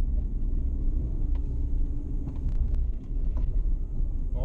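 A 2017 Chevrolet Colorado ZR2 truck drives on a dirt track in Colorado, its engine giving a steady low rumble close by, mixed with wind buffeting on the microphone and no speech.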